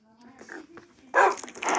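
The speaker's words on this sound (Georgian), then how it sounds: "ჩემი ძაღლები" Dogs bark and whimper in short bursts, with a louder flurry of close barking near the end over a low background hum.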